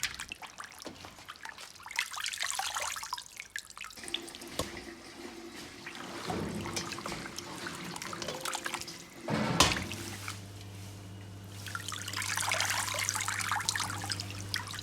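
Raw goose meat is rinsed in a basin of clean water, giving soft trickles, sloshes and drips that rise and fall over several seconds, close and moderately loud, with no voices.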